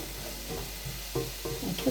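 Onions and smoked bacon frying in a pan, a steady soft sizzle with a few louder stirring scrapes and clatters toward the end, close up and without talk.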